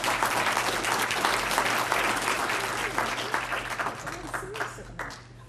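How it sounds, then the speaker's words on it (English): Audience applause for event sponsors at a curling team gathering, a steady dense wash of many hands clapping that holds strong, then thins and fades out near the end. "So let's give all of them a round of applause."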